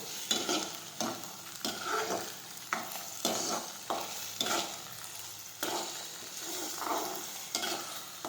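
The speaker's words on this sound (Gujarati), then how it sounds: "ફરી આપણે સાતળી લઈશું." Vasetti greens being sautéed and stirred in a pan, with a steady sizzle broken by repeated scraping strokes of the spoon every second or so, close and fairly loud, with no talking.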